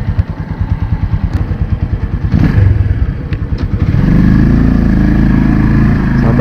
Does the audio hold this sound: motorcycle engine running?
yes